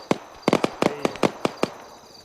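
Sharp cracks of gunfire from a shooting range pop in an irregular string, some shots in quick pairs, sounding somewhat distant and echoing slightly.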